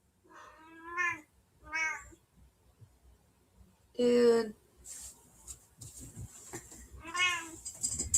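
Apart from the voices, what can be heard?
domestic cat meowing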